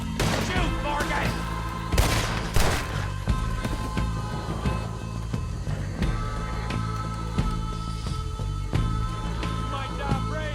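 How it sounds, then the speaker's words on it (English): Gunfire in the Red Dead Redemption 2 video game: repeated sharp shots and heavy thuds over a dense, continuous bed of game sound and music, with louder bursts near the start. "Shoot, Morgan!"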